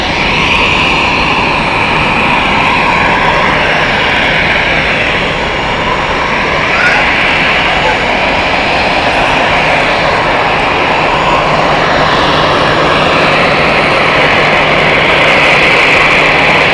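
A jet airliner arriving at Zurich Airport from Tenerife roars loudly and steadily throughout, a dense continuous engine rumble and whine heard close by with no pauses.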